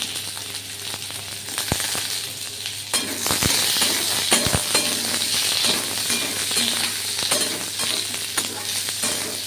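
Radish pieces fry with panch phoron spices in a pan, a steady close hiss and sizzle broken by sharp clinks and scrapes of a spoon stirring.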